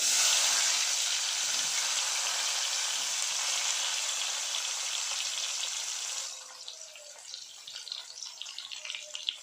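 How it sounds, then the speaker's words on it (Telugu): Onions frying in hot oil with cumin for a village-style egg curry give off a dense, bright, continuous sizzle that fades sharply after about six seconds into a quieter, sputtering crackle. "ఉల్లిగడ్డ వేస్తున్నా."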